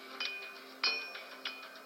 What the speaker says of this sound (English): Or a blacksmith banging.